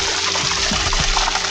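Water pouring hard from a farm water pump motor just switched on, a dense, loud and close rushing splash with a faint low motor hum underneath and no voices.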